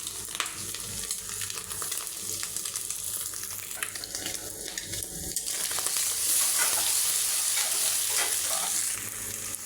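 Scrambled egg and chopped tomato are stir-fried in a pan, a dense steady sizzle with repeated scraping and stirring strokes that grows louder and hissier partway through, with no one speaking.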